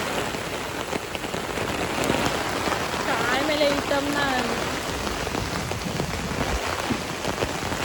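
Steady rain falls on surfaces around farm fields in a dense, continuous patter of drops up close, with a brief spoken phrase over it.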